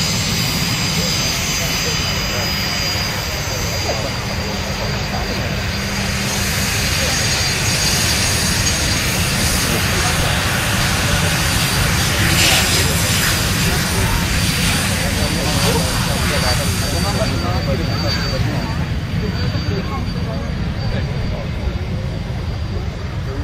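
Jet aircraft, with an F-16 demo team taking part, roar continuously and loudly overhead at the Radom air show in 2023, a broad sustained engine rumble that fills the whole stretch.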